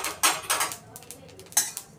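Sesame seeds being stirred in a kadhai, a few sharp scraping clinks of utensil against the metal pan, close and moderately loud, in irregular strokes with quieter rustling between.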